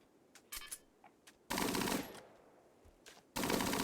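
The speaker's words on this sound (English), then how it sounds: "Go wild, Gatling turret." A Gatling turret in Rimworld fires in long, dense bursts of rapid shots, loud and continuous, separated by a quieter gap with a few scattered clicks.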